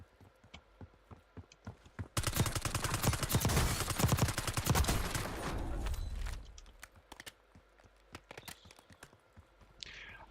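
A long burst of rapid automatic gunfire from a PP919 submachine gun in Call of Duty: Warzone, loud and close, rattling for several seconds before fading, with scattered clicks and shots around it.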